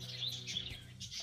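A small bird chirps nearby in a room, a few quick high tweets over a low steady hum, fairly faint and with no talking.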